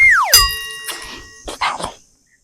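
A cartoonish falling whistle and boing, followed by a few short dog barks, close and loud, then silence.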